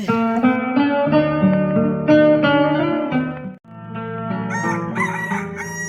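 A rooster crows loudly and close by, two long drawn-out crows, the second following a brief pause.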